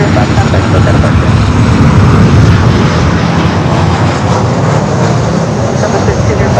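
Airliner at Los Angeles LAX airport, a loud continuous engine roar close by that stays steady throughout, with no speech.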